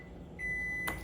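A kitchen timer beeps once, a steady electronic tone held for about half a second and ending in a brief louder burst, heard close by in a quiet room.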